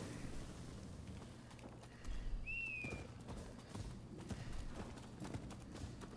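Hooves clip-clop steadily at a walking pace on horseback in a game, a low continuous rhythm beneath ambient noise, with a brief whistling bird-like call in the middle.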